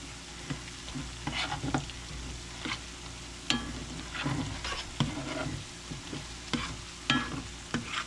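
Two small cut-up potatoes and half an onion sizzle in a pan, with a steady frying hiss broken by repeated scraping stirs at irregular intervals, close and moderately quiet.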